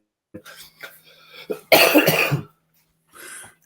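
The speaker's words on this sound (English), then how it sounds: "Excuse me a second, I'm about to cough again." A single harsh, close cough bursts out after some brief murmuring, followed by a quieter exhale.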